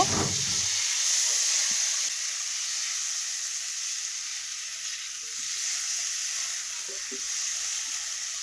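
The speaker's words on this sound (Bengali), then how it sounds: "আলু আর টমেটোটাকে একটু নেড়ে চেড়ে কষিয়ে নেব" Potatoes and ripe tomato sizzling and frying in a pan as they are stirred, a steady soft hiss with a few scraping stir sounds, heard alone at close range.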